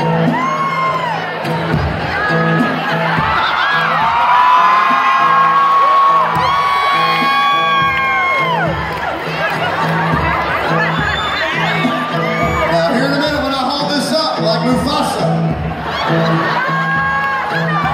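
At a country concert, a loud crowd whoops, cheers and screams without pause, high-pitched voices rising and falling over a steady din.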